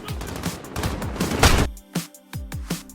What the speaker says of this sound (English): Gunfire in Fortnite and Call of Duty is easy to locate now.